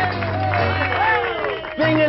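An audience applauds at a circus show. The clapping is mixed under a loud, excited voice and some tonal sound, then swells again briefly near the end.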